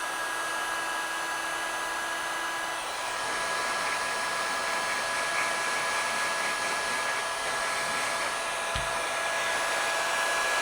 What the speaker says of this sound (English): I'm going to get the heat gun and we're going to basically do it.